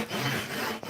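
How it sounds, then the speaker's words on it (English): Hand saw cutting a hedge branch outdoors, a single steady rasping stroke close by, loud and continuous for under a second. "I'm trying to saw this branch"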